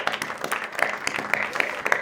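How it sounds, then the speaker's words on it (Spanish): Crowd at an outdoor bicycle festival claps for a cyclist's Pan-American championship gold medals, a short burst of moderate applause with distinct claps recurring at a quick, uneven rhythm. "Otro aplauso."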